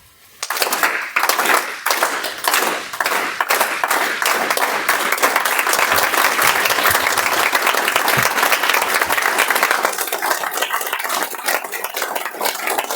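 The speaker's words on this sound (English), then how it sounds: "So the time when the hand goes down, you all clap." A Toastmasters meeting audience breaks into loud, sustained applause on cue, many hands clapping steadily and close, building quickly and then tapering off slightly near the end.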